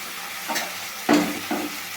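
Tomato pieces drop into a pan of frying ginger-garlic paste, giving three short sizzling bursts with stirring scrapes, the middle one loudest, over a low background hiss.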